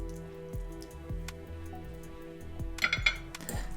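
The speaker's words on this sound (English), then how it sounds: "Put a little bit in there, mix it around, get the rest of that good flavor." A utensil stirs jasmine rice around a pan, giving soft, faint scraping and light clinks of metal at an uneven pace.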